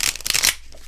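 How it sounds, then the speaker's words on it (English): Tarot cards are shuffled close up in a few quick riffling bursts that stop abruptly, leaving near silence. "I do love to hear the sound of shuffling cards."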